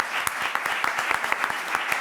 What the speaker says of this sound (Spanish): Y con un aplauso para Juan Antonio, muy bien.